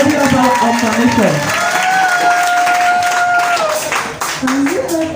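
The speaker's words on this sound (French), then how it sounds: "It's worthy of our acclamation." Church congregation clapping and cheering together, a busy crowd roar with rising and falling voices and sustained vocal tones over steady applause, loud and close throughout.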